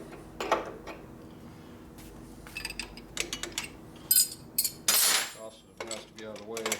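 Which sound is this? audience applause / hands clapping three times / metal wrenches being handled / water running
metal wrenches being handled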